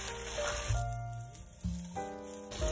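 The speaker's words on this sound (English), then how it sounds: "Okay, and we'll just stir all that up." Picadillo of beef with soy sauce and tomato paste is stirred in a hot pan, with soft sizzling and scraping swells at close range, alone without speech.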